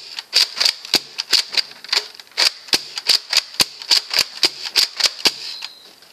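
A Nerf Raider shotgun-style blaster with its stock fitted is pumped over and over, giving a steady run of sharp plastic clacks close by, about three per second, with no voices.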